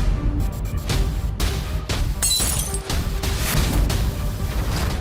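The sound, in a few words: glass shattering, drama sound effect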